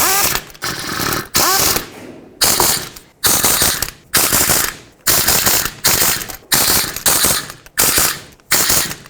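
A ratchet snugs the water pump pulley bolts on a 2001-2007 Volvo V70 in a cross pattern: about ten loud, close bursts of rapid clicking, each separated by a brief pause, with no talking.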